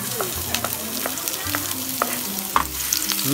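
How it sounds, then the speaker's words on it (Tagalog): Onions sauté in a hot pan for scrambled eggs, a constant crackling sizzle with repeated scraping stirs of a utensil against the pan, close and clear while a person talks intermittently over it. "Okay, so mainit na po yung pan natin. Okay. Let's saute the onions."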